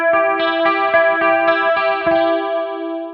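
Crystalline clean electric guitar picked through a Boss CE2 chorus pedal, with a bright arpeggiated pattern of repeated plucked notes that shimmer and warble, loud and steady, then fading slightly at the end.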